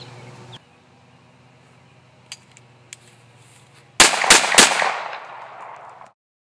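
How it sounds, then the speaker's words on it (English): Ruger SR1911 pistol fired one-handed at a range target: three loud, sharp shots in quick succession with a ringing decay, preceded by faint quiet clicks and handling noise. "this is just to demonstrate the manageability of the Ruger SR1911 when I shoot one-handed at the target."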